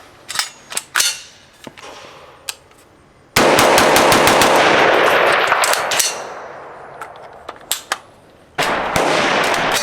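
A CMMG Mk 47 rifle, an AR-style gun that takes AK magazines, fires at a range: scattered single shots and short bursts give way to a long, loud, sustained string of rapid fire, then more bursts, crisp and close.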